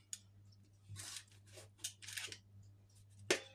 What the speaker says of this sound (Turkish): Şekil vermem için ortalarından da şerit açıyorum.